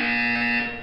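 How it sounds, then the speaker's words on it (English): A loud electronic buzzer from the video game Portal 2 sounds once, a steady harsh tone held for nearly a second before fading slightly, with no talk over it. "When you hear the buzzer, look down at the floor."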